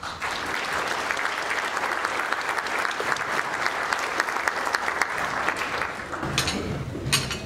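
Sustained applause from a luncheon audience at an economic symposium, welcoming a presenter to the stage for a lifetime achievement award; steady dense clapping throughout, tapering briefly near the end before a final burst.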